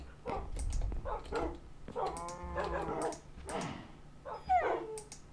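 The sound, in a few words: dogs barking and whimpering in a video game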